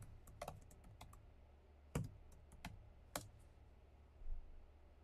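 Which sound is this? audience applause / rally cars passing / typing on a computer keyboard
typing on a computer keyboard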